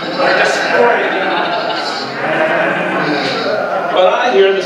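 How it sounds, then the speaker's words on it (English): Sheep bleat repeatedly amid a scene of mixed talking voices, with the animal calls rising a few times over the steady chatter at moderate loudness. "But I hear the sounds of sheep and oxen."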